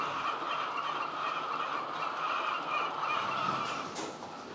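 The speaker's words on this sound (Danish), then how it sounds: "Det her, det er en hønseflok, hvor der er god harmoni i" A flock of organic laying hens in an orchard, a dense continuous chorus of clucking and calling from many birds at once, steady and fairly loud throughout with no voices.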